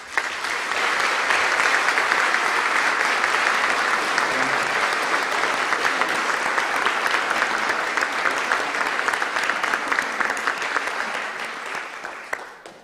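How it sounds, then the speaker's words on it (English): A hall full of guests at a university honors banquet applauds award candidates with sustained, even clapping that runs for over ten seconds before tapering off at the end. "Please join me in a round of applause for all of our candidates."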